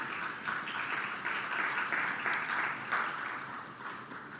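Conference audience at a marketing industry event applauds steadily and fairly faintly, a dense continuous patter of clapping throughout.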